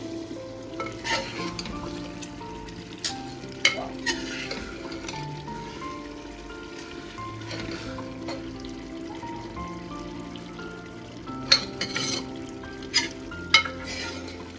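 Arvi and mutton masala roasting in a pan gives a continuous moderate sizzle, with scattered spoon scrapes and stirring knocks coming in clusters and no voices.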